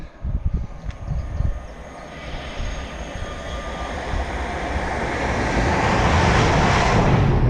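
A low, broad rumble swells steadily and grows louder over several seconds as a train approaches and passes close by in the Ise Valley between Wellingborough and Kettering, England.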